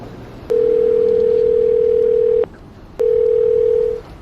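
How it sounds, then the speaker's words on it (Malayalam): Telephone call tone placed from a handset: two long steady electronic beeps, the first about two seconds and the second about one second, separated by a short gap, loud and clear over faint background noise. "ഷാജി അച്ഛനെ ഒന്ന് വിളിച്ചു പറഞ്ഞാലോ"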